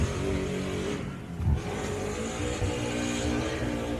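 A Gardner race car with an exhaust problem runs at the Loveday 400, its engine rough and buzzing, loud and steady throughout with a brief surge midway.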